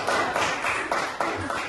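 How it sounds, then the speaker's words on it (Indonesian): Classroom of students in a Hindu religious studies lesson clapping together in a rhythmic pattern, a few distinct group claps in a steady beat, close and fairly loud. "tepuk tangan dulu buat kita semua"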